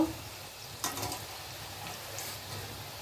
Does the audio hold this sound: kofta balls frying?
yes